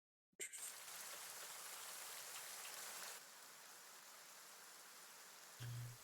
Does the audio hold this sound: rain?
yes